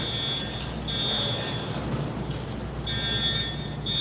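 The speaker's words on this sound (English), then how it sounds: "The fire alarm going off now?" A fire alarm sounds inside a building, a steady high electronic tone that cuts out briefly and returns over a constant low rumble of background noise.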